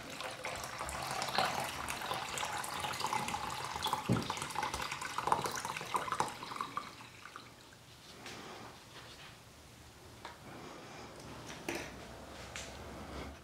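Liquid sloshes and drips as a resin flamingo is dipped into a blue copper electroforming bath, with soft splashing and trickling, busier at first and then quieter with occasional drips, and no voices.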